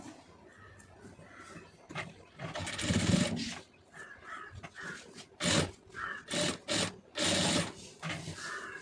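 A sewing machine stitches piping onto fabric in short bursts, close rattling runs separated by pauses as the work is adjusted, with no talk.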